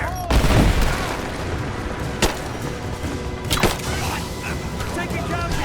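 Rise of the Tomb Raider combat with gunfire and a heavy boom at the start, followed by scattered sharp shots and impacts through a busy game soundscape.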